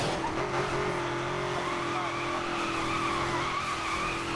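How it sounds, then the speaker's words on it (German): A car drifting in the racing game Need for Speed Most Wanted 2012, a sustained tire squeal over a steady engine drone, continuous and moderately loud throughout. "einen durchgehenden Drift hier aufrecht erhalten können"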